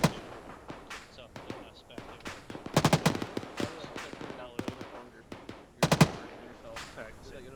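Gunfire during platoon shooting training: scattered sharp shots and quick bursts of several rounds, some loud and near, others fainter, spread across the clip while people talk in between.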